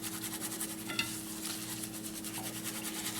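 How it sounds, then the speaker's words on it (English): A spoon stirring flour into a pan over medium heat while making creamed eggs, producing steady scraping and swishing strokes with a faint sizzle beneath, close and continuous with a soft clink partway through. "we just empty in the flour and stir that up until it's smooth"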